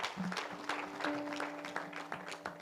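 Gathering at an evangelistic service applauding to acclaim Jesus, faint, scattered clapping from a small crowd with a soft tonal hum underneath, brief and fairly distant.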